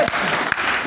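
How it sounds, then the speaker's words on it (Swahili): A church seminar audience in Bukoba, Tanzania claps together in a steady, dense burst of applause that fills the room, with a voice briefly audible beneath it. "Tupigie makofi sisi ambao tumetembea"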